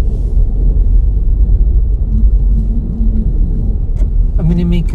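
A manual-transmission car coasting slowly with the clutch pressed in through a parking lot, a low steady interior rumble and road noise, with a brief voice near the end.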